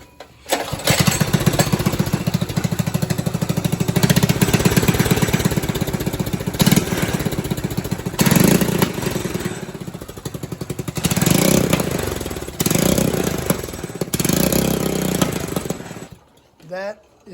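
A four-wheeler ATV with an aftermarket exhaust cold starts and runs, a loud, rapid single-cylinder putter that revs up and down in surges, with voices talking over the engine.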